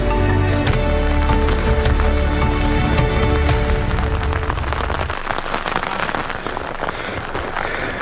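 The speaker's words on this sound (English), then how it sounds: "despite being wet and all the challenges that poses for shooting in this absolutely torrential rain" Torrential rain pours down outdoors after emerging from a forest, a loud dense roar of drops drumming on surfaces that fills the whole clip with continuous hiss and splatter.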